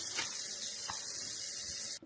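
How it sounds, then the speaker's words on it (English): Tap water pours steadily into a kitchen sink while eggs are rinsed for breakfast, a constant close hiss that cuts off abruptly at the end. "Go ahead and run this under some water while we're eating."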